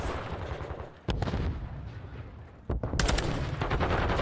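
Gunfire and grenade blasts in a Call of Duty match, loud and close: bursts of shots rumble throughout, a sharp explosion cracks near the one-second mark, and dense, rapid fire builds again toward the end, with no talk.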